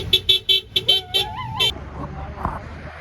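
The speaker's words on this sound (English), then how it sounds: "I drove by and of course honked, and we're seeing lots of good honks and solidarities" Car horns toot in a quick run of short honks, five or six in a row, then one longer honk, passing drivers at an Indigenous Women Rising solidarity rally in Fayetteville, Arkansas, with voices and cheering mixed in.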